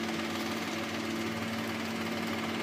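An electric fan runs in a room on a hot summer day, giving a steady, unbroken whirring drone with a constant low hum and no pauses or voices.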